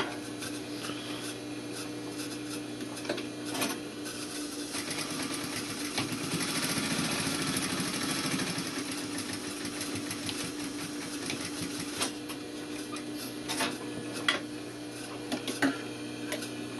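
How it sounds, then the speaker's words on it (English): A sewing machine runs continuously while stitching a welt pocket line, back tacking at the start and end, a steady mechanical hum with rapid needle ticking and a few faint clicks, no voices. "Start with back tack, sew the whole length of that line, and then end with a back tack, needle up."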